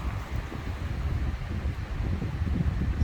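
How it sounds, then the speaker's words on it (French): Foehn storm wind roaring nonstop in strong, rumbling gusts that buffet the microphone, loud and close, with no voices. "il y a un bruit de vent ininterrompu, ça s'arrête pas"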